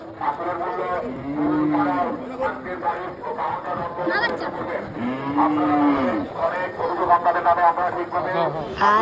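Cows moo at a crowded cattle market in Jinjira, Bangladesh, where animals are sold for Qurbani. Two long, deep moos rise clearly over steady crowd chatter and nearby talking.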